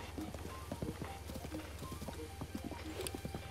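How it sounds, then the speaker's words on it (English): A horse galloping in the video game Zelda: Breath of the Wild, its hooves drumming in a fast, steady clip-clop rhythm that runs throughout at moderate loudness over a constant game background. "Oh, horse riding is so much faster."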